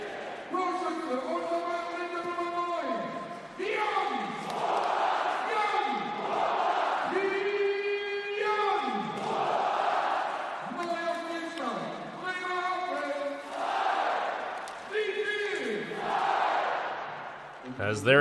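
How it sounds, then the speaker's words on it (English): An ice hockey arena crowd in Bremerhaven roars and chants in sustained, loud waves after a goal in a Pinguins Bremerhaven versus TPS Turku game, with rhythmic swells of singing voices filling the hall. "the crowd certainly giving it their all tonight here in Bremerhaven"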